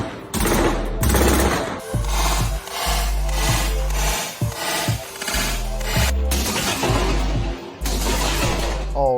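Rapid gunfire from 5.56, 300 Blackout and 9mm rifles and pistol striking steel plates, a dense run of loud, close shots in bursts with brief gaps, sharp cracks layered with ringing impacts.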